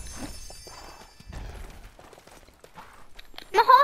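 A horse in the Lego Worlds video game clip-clops softly in scattered hoof steps, then lets out a loud, close neigh at the end.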